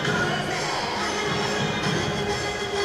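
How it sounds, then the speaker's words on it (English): Crowd noise fills a basketball arena during a Niagara River Lions game against Moncton, a dense steady roar of fans that holds for about three seconds with no clear breaks. "All the fans are on their feet, cheering the team on."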